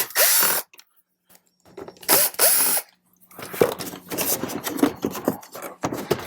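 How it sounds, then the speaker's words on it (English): Screws being backed out of a dash panel on a 2018-up Jeep Wrangler JL: two loud whirring power-tool or ratchet bursts up close, followed by lighter clicks and rattles of parts, with no talking. "let's remove these 2 screws"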